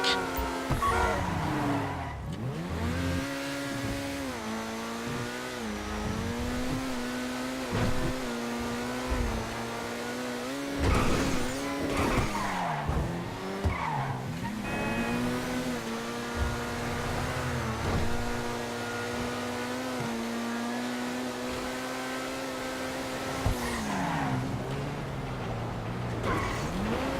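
Car in Grand Theft Auto V driving hard, a continuous engine roar rising and falling through revs with gear shifts and tyre skids, steady and close throughout with no voices.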